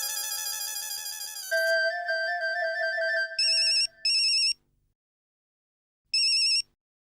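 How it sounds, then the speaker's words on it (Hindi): A phone ringtone plays a melodic chime, then sharp electronic rings sound in separate bursts with silent gaps between them, clear and close. "सुंदर को फोन लगा।"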